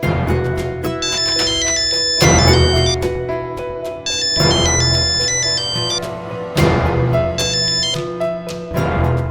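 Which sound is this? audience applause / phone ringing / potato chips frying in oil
phone ringing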